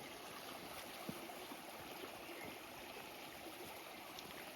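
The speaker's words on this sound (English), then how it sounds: "We have a small creek crossing." Small creek crossing in a rocky gorge in Karijini National Park, its water running over stones in a steady broadband wash, faint and continuous, with no voices.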